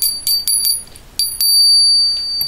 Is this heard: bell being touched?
yes